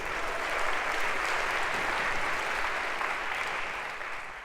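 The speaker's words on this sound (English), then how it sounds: "round of applause for our volunteer" Steady applause from a lecture-hall audience at an introductory computer science class as a volunteer comes down, a dense even wash of clapping that fades a little toward the end.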